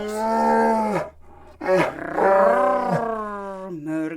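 A father bear in a fairy tale voiced as a deep, drawn-out roar, repeated in a few long growling bursts with brief pauses between; likely a human voice imitating the bear.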